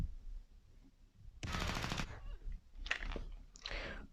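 Gunfire in the video game AreaF2, a sharp rapid burst of shots followed by a few more separate cracks and bursts, loud and close with no talk.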